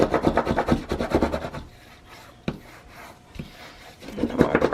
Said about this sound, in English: And I'm going to burnish it down really, really good.